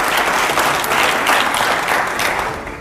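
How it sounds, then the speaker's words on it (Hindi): A studio audience at an Indian political debate show breaks into loud, dense applause, many hands clapping together in a steady continuous roar that stays strong throughout before easing slightly at the end, with no speech over it. "जोरदार तालियां हो जाए पहले तो।"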